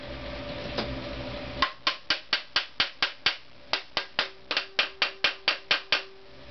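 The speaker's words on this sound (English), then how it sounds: "a few tappings with the hammer" A hammer taps a part into a Honda CX500 engine housing about twenty times in a steady rhythm, sharp metallic knocks close by, with a short pause partway through.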